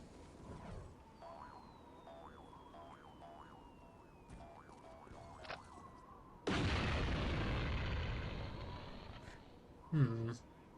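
AWP sniper rifle fire in the video game Postal 2: a loud, heavy blast with a long fading tail cuts in partway through over electronic game tones, then a second sharp shot lands near the end.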